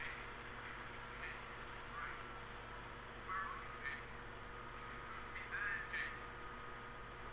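A bird quacks several times in short, faint calls inside the Gmod game Underhell, over a low, steady ambient hum.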